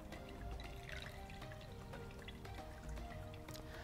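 Water trickles and drips through saturated coffee grounds in a Hario Mizudashi cold brew maker, a soft, steady patter that stays close and quiet with no voices.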